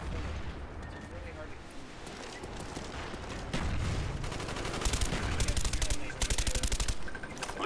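Gunfire rattles through a Call of Duty Black Ops match in rapid automatic bursts that grow louder and denser in the second half, over game noise with voices talking.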